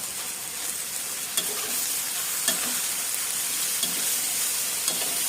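Chicken stir-fried with stink beans and red curry paste, a steady close sizzle with occasional scraping stirs of the spatula in the pan, no talking.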